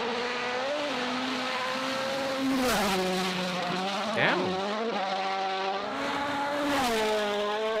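A rally car tears through a forest stage, its engine screaming in sustained high revs with rapid gear shifts and rising and falling pitch, loud and close, with a single brief spoken exclamation.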